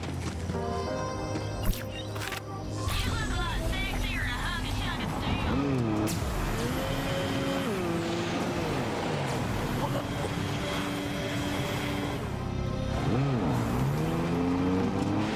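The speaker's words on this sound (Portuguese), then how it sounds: "Só pega o carro." A car driven in the video game Borderlands 3, its engine droning steadily with pitch rising and falling through gear shifts and turns, loud throughout, with people talking over it.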